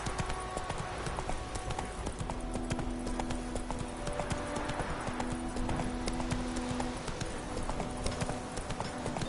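Roach the horse gallops in The Witcher 3, a loud, rapid clip-clop of hooves that runs steadily throughout, with faint game sounds underneath.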